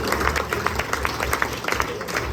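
Scattered applause and clapping from guests at a 70th-anniversary dinner, uneven hand claps over a murmuring room with some voices in the background.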